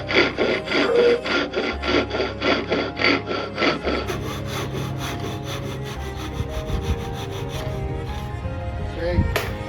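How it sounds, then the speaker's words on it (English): Hand saw ripping along wooden boards in a hand-tool workshop, a fast steady rhythm of close, loud push-pull strokes, slowing into a smoother rasp toward the end. "ripping the boards is going to be my least favorite part of this"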